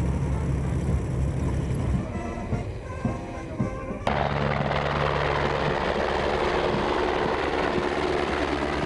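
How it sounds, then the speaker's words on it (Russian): Air force military helicopters fly low overhead at about 100 metres during a military parade event, a loud continuous rotor and engine roar that shifts in character midway and stays dominant throughout. "На 100-метровой высоте пролетают вертолеты войск ВВС с флагами Узбекистана на борту"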